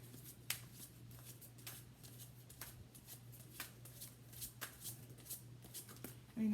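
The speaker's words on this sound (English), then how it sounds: "I just can't shuffle a deck of cards for whatever reason" Soft, quick riffling and flicking of playing cards being shuffled, repeated in short bursts over a low steady hum, quiet and close.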